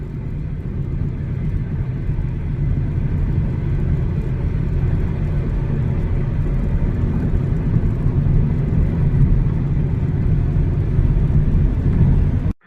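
A Ford Mustang driving along a California road past desert farmland, heard from inside as a steady low engine and road rumble that holds constant for the whole stretch before cutting off abruptly at the end.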